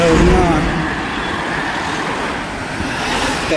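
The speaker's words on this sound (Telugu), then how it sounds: "కార్లు వచ్చేస్తున్నాయి" Cars and other road traffic pass on a road, giving a steady, loud broadband rumble with a slightly louder swell at the start that continues throughout.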